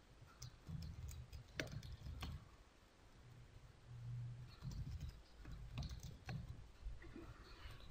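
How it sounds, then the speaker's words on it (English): Computer keyboard being typed on at a Linux terminal, a few scattered key clicks in short bursts, quiet and close, with no talking. "And typing the following command"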